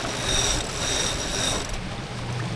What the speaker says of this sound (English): now we can hoist